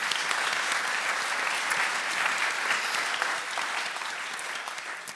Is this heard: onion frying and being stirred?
no